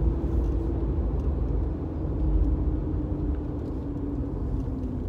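Mercedes 190E driving at a steady pace, giving a moderate, continuous engine and road rumble from inside the cabin with faint mechanical hum and no speech.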